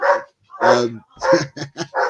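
A dog barks as an alarm, letting out a quick series of about six loud, close barks in uneven bursts with short pauses between them.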